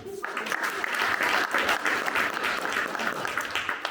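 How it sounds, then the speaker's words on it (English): An audience at a Texas primary election candidate forum applauds the candidates, a brief lull giving way to full, dense clapping that holds strong and even for several seconds. "one more round of applause for our candidates as well"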